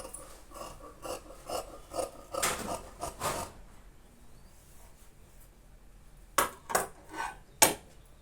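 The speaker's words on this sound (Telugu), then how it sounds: "ఇలా కట్ చేసుకోవాలి." Scissors snip through blouse lining fabric in quick rhythmic bursts: a run of close crisp cuts, a pause, then a few more sharp snips.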